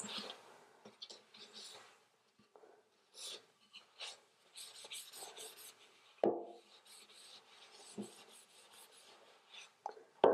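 A cloth wipes excess milk paint off a wooden piece in a string of soft, close rubbing and scuffing strokes with irregular pauses, interrupted by a couple of sharper knocks.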